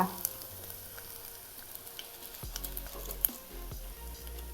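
Curry leaves, coriander-cumin powder and masala fry in oil for a brinjal curry, a soft, quiet sizzle broken by a few faint clicks and stirring touches, with no talking.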